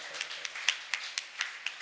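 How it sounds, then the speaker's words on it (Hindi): Light, sparse applause greeting a guest at an International Yoga Day event, with a few hands clapping in a loose, uneven rhythm at middling distance. "एक बार जोरदार तालियों से आपका स्वागत है।"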